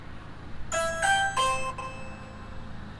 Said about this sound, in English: We're going to go ahead and ring the doorbell.